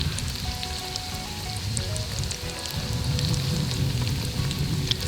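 Venison schnitzel fries in hot oil with a dense, steady sizzle and crackle, close and continuous, with no voices.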